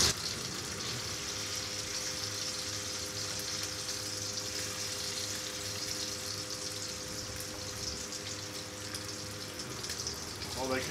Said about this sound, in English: Place the scallops in, face down, gently.